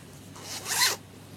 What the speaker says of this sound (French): ça c'est une fermeture éclair que j'avais récupérée d'un projet